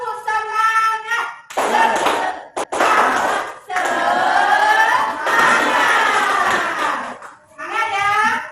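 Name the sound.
children doing the tepuk semangat clapping chant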